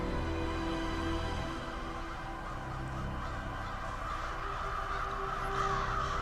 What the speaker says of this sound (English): Oh, the crows.